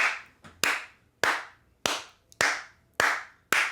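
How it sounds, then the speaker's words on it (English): One person clapping slowly and steadily, six sharp, loud claps spaced about half a second apart with short ringing decays, no voices. "I stood and clapped"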